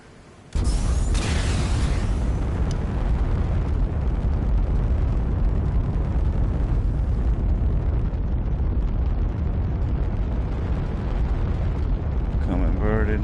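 A rocket in the VR flight game Ultrawings fires with a sudden onset and a loud, continuous roaring rush that holds steady for many seconds, while a voice talks over it.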